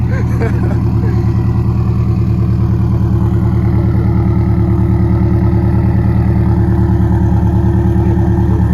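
A 2017 Subaru STI, a 400 WHP build, idles with a deep steady rumble and small rises in revs, loud and close, running for the whole stretch.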